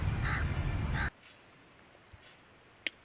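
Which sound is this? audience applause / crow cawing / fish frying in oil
crow cawing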